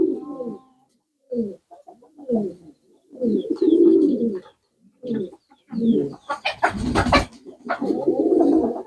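Pigeons coo close by in a village loft, giving low, throaty bursts in an irregular series, with a brief rustle of wings or movement partway through and no talking.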